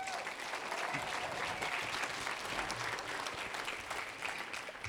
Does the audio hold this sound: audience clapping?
yes